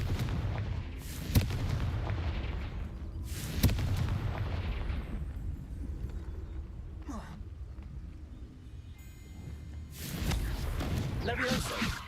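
Fiery Confringo spell blasts in the Hogwarts Legacy video game, with sharp booming explosions around 1.4 s and 3.6 s and another burst near 10 s, set against a steady low rumble of game sound.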